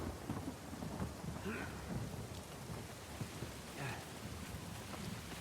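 Rain and a thunderstorm in the video game Uncharted 4 sound as a steady patter of rainfall with low thunder rumbling underneath, faint and continuous throughout, with no talk.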